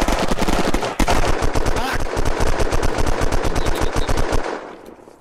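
Rapid automatic gunfire from a base raid in the video game Unturned, with dense, rhythmic bursts of shots hammering loud and close almost without pause before tapering off at the end.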